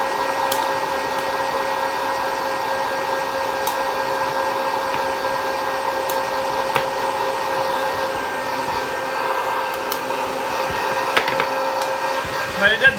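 A popcorn popper roasting coffee beans whirs with a steady, airy motor hum from start to finish, with faint scattered clicks and a few small crackles near the end.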